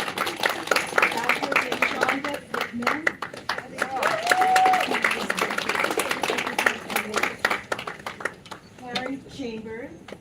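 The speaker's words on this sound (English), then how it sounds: "Let's give a round of applause for all of them." An audience at a women's empowerment event claps for speakers called up front one by one, scattered applause running under a man or woman announcing names over a microphone.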